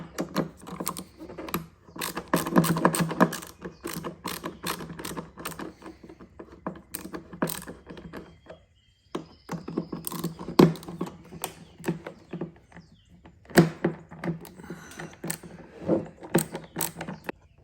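Flathead screwdriver removing screws from the projector hardware of a 2009-2014 Acura TSX headlight, a close, quiet series of small clicks, ticks and scraping turns in irregular bursts, with no talking.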